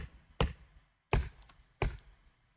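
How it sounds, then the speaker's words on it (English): An axe chopping a tree in the Roblox game Lumber Tycoon 2, three sharp wooden thunks evenly spaced about two-thirds of a second apart, each fading quickly, with no voices. "we're going to have to get chopping here"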